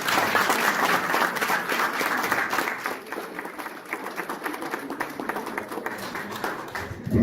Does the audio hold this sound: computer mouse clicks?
no